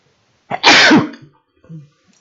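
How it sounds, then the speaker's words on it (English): A single loud, sharp sneeze up close, a quick intake followed by an explosive burst, then a short faint sound after. "Got to sneeze here."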